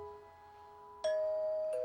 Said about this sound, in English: you don't have to ring the bell.